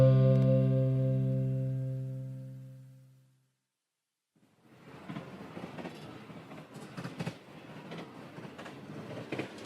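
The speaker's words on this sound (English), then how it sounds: "This is us, sitting in a subway train." A sustained tonal hum fades to silence, then a subway train rumbles along with rhythmic clatter and rattling, heard from inside, fairly close and steady.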